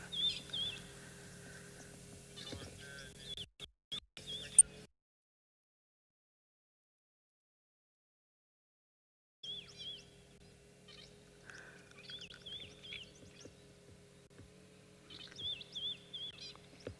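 Several wild birds call at a waterhole on a South African morning safari, faint chirps and whistles scattered over a low outdoor hum, broken by a few seconds of complete silence midway.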